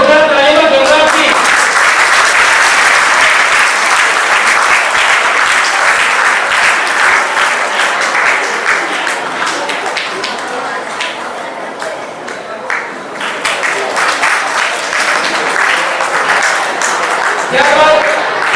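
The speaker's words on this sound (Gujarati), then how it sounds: "જોરદાર તાળીનો ગણરાજજી." Sustained applause from an audience at a school retirement honour ceremony, loud and dense clapping that runs almost unbroken, dipping slightly midway before swelling again.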